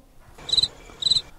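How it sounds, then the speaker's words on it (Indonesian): Two short cricket chirps, each a quick trill, separated by a brief pause, fairly close and clear over a quiet background. "itu suara jangkrik."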